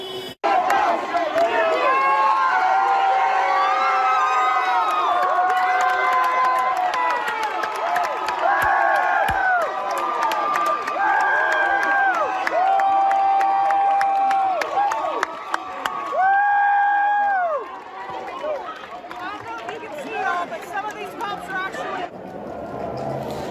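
A large protest crowd cheers and chants outside, a loud, sustained swell of many voices rising and falling in rhythmic calls for about twenty seconds before dropping off near the end.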